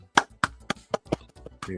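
A slow hand clap, six or seven sharp single claps at a steady, deliberate pace, close and dry, with a voice starting at the end.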